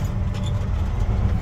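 Truck engine rumbling steadily with a slight lift in revs during a gear shift, low and continuous, close by with no talking.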